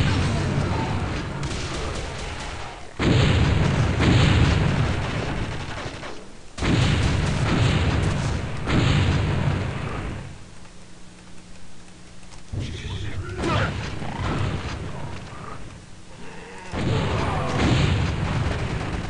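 Heavy booming rocket explosions from an automatic rocket launcher zombie in a Quake-style Doom mod, long rumbling blasts that come in waves separated by short quieter gaps, loud and close, with a voice talking over parts.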